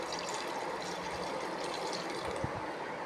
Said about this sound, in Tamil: பிரியாணிக்கு தேவையான தண்ணியை ஊற்றிடலாம்.